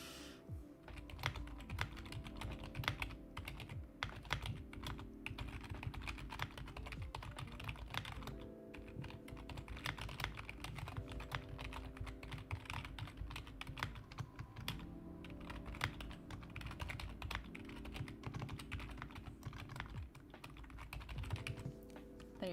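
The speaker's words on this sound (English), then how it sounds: "let me do some more keyboard ASMR" Steady, continuous clatter of keys being typed on a computer keyboard, close and fairly even in rhythm, running the whole time with no talking over it.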